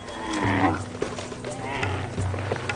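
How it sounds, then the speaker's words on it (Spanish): A camel gives deep, throaty groaning calls, several drawn-out bellows following one another, loud and close with no other sound. "El camello."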